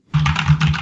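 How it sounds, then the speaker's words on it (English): Typing on a computer keyboard, a brief close burst of rapid, dense keystrokes lasting under a second. "Typing"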